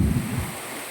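Heavy monsoon rain in Moti Gop, Gujarat: a loud, dense roar of downpour mixed with gusty wind buffeting the microphone, lasting only about a second with no speech.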